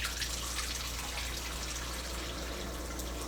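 Water bleeding off through the high-side bleed valve of a pressure gauge, a steady, faint hissing rush of liquid that runs evenly without breaks.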